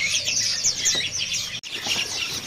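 Caged bulbul songbirds at a traditional Indonesian bird market chirp and tweet in quick, bright overlapping calls, close and lively, with a short break midway and a faint flutter of wings.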